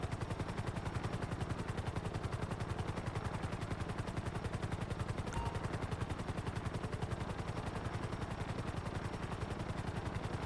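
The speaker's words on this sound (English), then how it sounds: "the sound that this helicopter makes is very pleasing to the ear" A helicopter in the video game GTA 5 gives a rapid, perfectly even rotor thump that beats on without pause, loud and close, with no voices.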